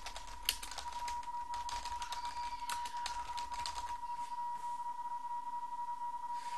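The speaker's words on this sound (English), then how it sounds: "I'm going to start typing." Rapid, irregular clicking of keys on a computer keyboard while transmitting with PSK31 software on Linux, typing in quick bursts that thin out toward the end, over a faint steady electronic tone.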